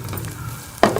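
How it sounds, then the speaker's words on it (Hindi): Onions with ground green chilli paste frying in a pan for a Punjabi chicken dish, a soft low sizzle that jumps into a sharper hiss and crackle near the end as the mixture is stirred. "अब हम इसे थोड़ा सा भून लेंगे ताकि जो प्याज है वो हमारे से ब्राउन हो जाए।"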